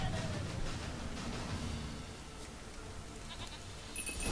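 Goat bleating in The Witcher 3: Wild Hunt, a short wavering bleat near the start over a low ambient game background that continues quietly afterward.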